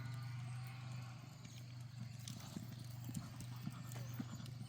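Rhythmic three-beat hoofbeats of a horse cantering in a riding arena, moderately near, steady pace over a low constant hum, no voices heard.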